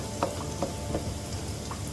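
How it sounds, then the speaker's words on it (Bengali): Potatoes fry in a pan with a soft, even sizzle, broken by a few light scraping strokes of a spatula at regular intervals; fairly quiet and steady throughout. "একটু আলুটা ভেজে নিই, আগে লাল লাল করে আলুটা ভেজে নিই।"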